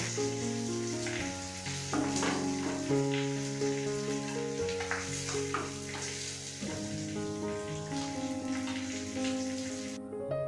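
Fish pieces frying in hot oil give off a steady crackling sizzle for the whole stretch, partly masked by melodic background music playing over it.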